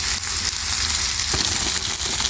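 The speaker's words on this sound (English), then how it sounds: "Should have a nice sizzle." Cabbage and pre-cooked noodles with butter frying on a flat-top griddle give a steady, close, even sizzle and hiss throughout, with no talking.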